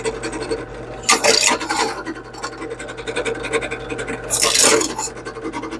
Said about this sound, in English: I'm going to turn this on and drill some holes